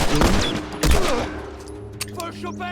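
Pistol shots fire in quick succession during a tense moment of The Last of Us, a few sharp reports ringing out loud and close amid game ambience.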